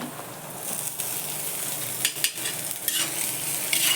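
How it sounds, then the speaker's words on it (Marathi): Onion and tomato sauté on a hot pan for a boiled-egg dish, a steady close sizzle with occasional scraping stir strokes rising over the frying hiss. "कांदा चांगला परतून घेतला टोमॅटो घालते"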